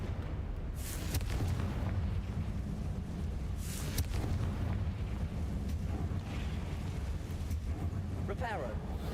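The Confringo blasting spell goes off in Hogwarts Legacy with a few booming explosive bursts over a steady rumbling game backdrop, and voices speak during the action.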